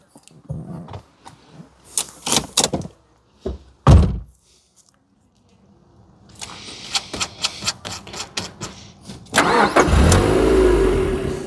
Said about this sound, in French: C'est le bruit d'une MX5, clairement.